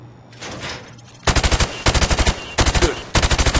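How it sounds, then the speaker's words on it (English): Rapid automatic gunfire shoots through plywood at targets in the video game Modern Warfare Remastered, coming as four loud, close bursts of quick rattling shots after a quieter opening. "I want you to shoot the targets through the wood."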